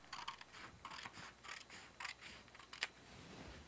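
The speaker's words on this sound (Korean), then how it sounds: "여기 절취선에 표시가 되어 있는 부분을 가위로 자릅니다" Soft, repeated snipping of scissors through paper, a series of short crisp cuts with small pauses, close and quiet, with no voices.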